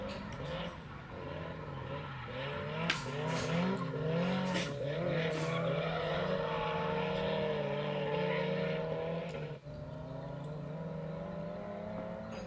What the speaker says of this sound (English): Both cars cruising through the course.